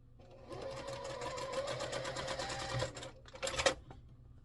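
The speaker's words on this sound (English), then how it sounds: "I'm just going to flip these over and just stitch these together right quick" A sewing machine runs in a steady motorized whir as quilt block units are stitched together, then pauses briefly before a second short burst of stitching near the end.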